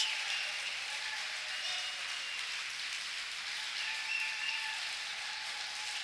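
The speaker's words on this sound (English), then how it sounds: "Let's give them a round of applause." Sustained applause from a church or rally audience honoring American soldiers, a soft, even wash of many hands clapping, heard from a distance.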